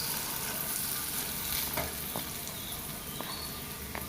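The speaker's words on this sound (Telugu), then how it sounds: "ఒక టూ మినిట్స్ వరకు ఇలా మెత్తగా వచ్చేటట్లు ఫ్రై చేసుకోండి" Ingredients for paneer butter masala fry in a pan with a constant dense sizzle and occasional faint scrapes of stirring.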